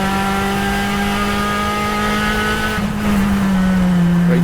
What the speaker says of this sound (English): here comes the Phil Ackley machine